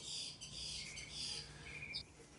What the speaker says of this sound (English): it was so bright that all the birds were singing at 2 a.m.